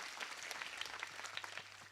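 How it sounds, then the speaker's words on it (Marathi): Applause from a kirtan audience, a steady dense patter of many hands clapping at a moderate distance, continuous through the moment with no talk over it. "त्यांच्याही करता एकदा जोरदार अशा टाळ्या वाजवा"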